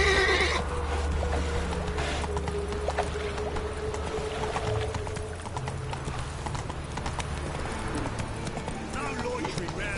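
A horse gallops in The Witcher 3 video game, with steady, rhythmic clip-clop hoofbeats running throughout, close and moderately loud, with talk over them.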